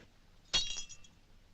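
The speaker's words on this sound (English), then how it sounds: "Does it break because it is faulty or because it is glass?" A drinking glass shatters in a sudden bright crash during a scene from a 1946 film, followed by a short tinkling decay of falling shards over a quiet background.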